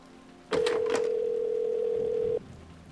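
A phone call rings out in the Road 96 video game as a single steady electronic tone lasting about two seconds, clear and close with no talk.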